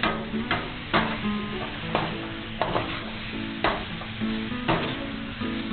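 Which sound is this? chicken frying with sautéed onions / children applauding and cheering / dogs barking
chicken frying with sautéed onions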